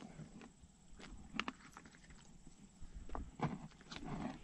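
Horses moving on a farm while hay bales are unloaded into a shipping-container haymow, with soft scattered hoof clops, shuffling and faint snorts at a distance over steady outdoor background noise.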